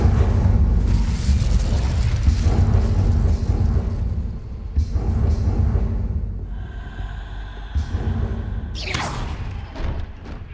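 Incendio fire spell cast repeatedly in Hogwarts Legacy inside the haunted Hogsmeade shop, a loud roaring whoosh of flames with heavy low thuds, continuous for several seconds, dropping briefly then flaring again near the end.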